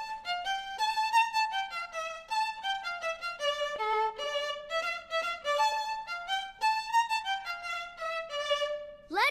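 Violins in a children's cartoon play a bright, lilting melody of high sustained notes, smooth and continuous, up close with no talk.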